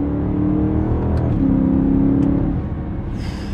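BMW E90 M3 engine revving hard through the gears with a brief dip at a quick shift, loud and close from inside the car, then easing off, with no talk.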